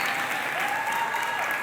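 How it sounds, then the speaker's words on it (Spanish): An audience applauds at a podcasting panel, a dense, continuous burst of clapping that stays loud and even throughout the short stretch, with no voice over it. "Otro fuerte aplauso, por favor, para el Chino"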